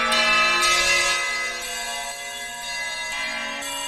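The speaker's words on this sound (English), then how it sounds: "Got a gong." A gong modelled by the RingsFX physical modelling resonator app on iOS rings out with a dense, bright, sustained metallic tone, with several overlapping strikes swelling and fading over a few seconds, loud and alone.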